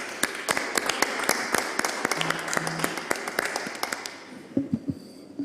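Sparse, scattered clapping from a small group at a Chilean Constitutional Convention environment commission session, individual sharp claps standing out irregularly before thinning out, with a faint hum and a few thuds at the end.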